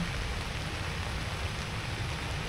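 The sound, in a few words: rain falling on rooftop tent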